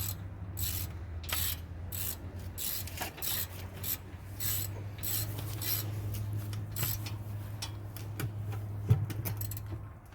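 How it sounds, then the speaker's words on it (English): Ratcheting wrench tightening the last of four bolts on a wheel bearing assembly of a 2013 Ford F150, steady rapid clicking close up over a low mechanical hum, with a brief sharp knock near the end. "tighten up the last bolt"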